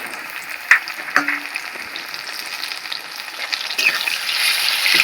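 A paste of ground ginger, cumin and green chilli sizzles as it hits a hot pan for a vegetarian banana-flower dish, a steady bright hiss that swells toward the end, with a few clinks of a spoon stirring.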